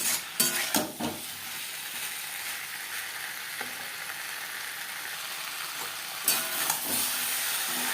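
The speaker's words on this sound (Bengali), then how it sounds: "মশলার সাথে বেশ ভালো করে মিক্সড করে দেব। হাই টু মিডিয়াম ফ্লেমে 3-4 মিনিট নাড়াচাড়া করে নেব।" Potato and pointed gourd pieces stirred with spices in a pan over high to medium flame, a steady sizzle broken by scraping spatula strokes, clustered at the start and again near the end, with no talk.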